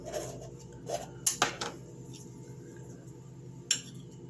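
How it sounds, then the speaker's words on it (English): Opening a jar of Better Than Bouillon in a home kitchen: a few sharp glassy clinks and a brief scrape of the lid, close and fairly quiet. "To get my jar open."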